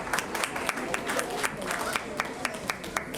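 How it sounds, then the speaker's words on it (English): A small crowd at a charity event in Kolkata claps steadily, with individual hand claps standing out in a loose, continuous patter. "big round of applause to them"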